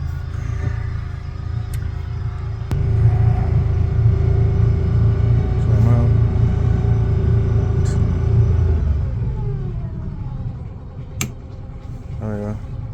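A Yamaha outboard motor runs steadily as it warms up after a spark plug change, its low, loud engine drone holding constant and then settling lower, with a couple of sharp clicks and light handling noises near the end.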